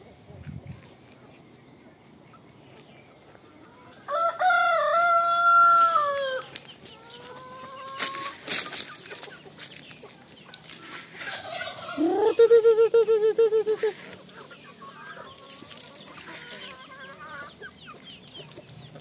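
Native hulo rooster and Sasso hens call outdoors: a loud rooster crow rings out, later another crowing or clucking call, with softer fowl noises and rustling in between.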